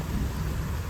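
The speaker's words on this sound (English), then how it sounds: "It's rainy." Rain falls outside with a low, continuous thunder-like rumble, faint and steady, with no talk.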